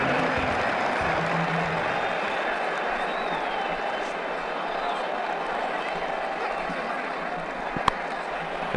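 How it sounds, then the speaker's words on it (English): Stadium crowd cheering a six in the cricket video game Ashes Cricket 2009, a dense sustained roar and applause filling the whole span at steady loudness, with one sharp click near the end. "That shot brought the crowd to their feet."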